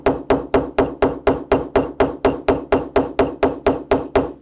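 A roundover tool is struck with a hammer to set and shape a brass rivet, about sixteen sharp, evenly spaced metallic taps in a quick steady rhythm, close and alone.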